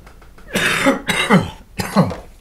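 Three harsh, close coughs in quick succession, each a chesty burst followed by a short pause.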